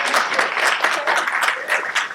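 Audience applause at a live pun contest, a fairly loud, bright burst of many people clapping with slight surges and dips throughout.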